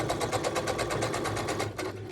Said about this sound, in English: Now I'm going to sew right off the edge of this pocket.